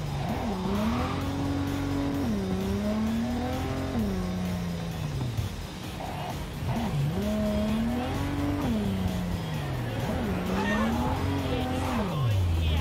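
A car driven in the video game Cyberpunk 2077 revs continuously, its engine pitch climbing and dropping in repeated waves as it accelerates and shifts, loud and close throughout.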